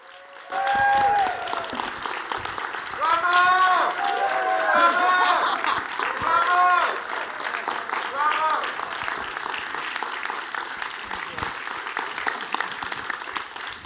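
A film screening audience bursts into sustained, dense applause for a director returning to the stage, with cheers and whoops mixed in, swelling loud and then slowly tapering while remaining steady throughout.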